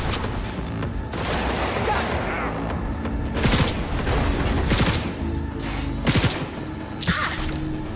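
Tsunami TKI-20 Shingen smart SMGs and a Yukimura smart pistol fire in Cyberpunk 2077. Rapid bursts of gunfire run near-continuously, with louder volleys and booms standing out. A voice talks over the shooting.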